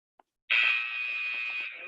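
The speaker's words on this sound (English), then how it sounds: "5 seconds till that next buzzer." A workout timer buzzer blares in a virtual boot camp class: one loud, steady electronic tone holding for over a second, heard alone after a brief tick.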